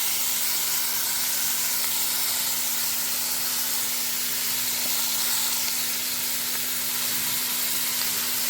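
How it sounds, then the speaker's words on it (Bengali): Gravy poured into a hot pan of chicken balls hisses in a steady, loud, broad sizzle that holds evenly with no pauses, alongside a faint constant hum. "গ্রেভিটা অ্যাড করে দিচ্ছি।"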